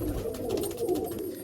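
A male Malwai pigeon coos close by in a series of low, throaty rolls, with a steady murmur of other birds or room noise behind it and no talk over it.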